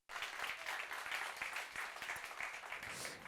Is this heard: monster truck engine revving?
no